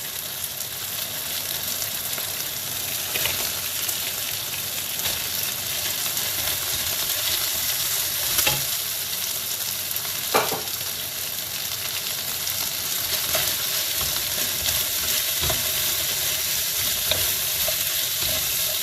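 Beef and onions fry in a pan, a steady, dense sizzle with gentle crackles and occasional stirring scrapes, continuous and close with no talking.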